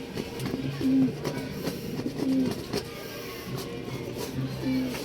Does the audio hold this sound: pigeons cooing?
yes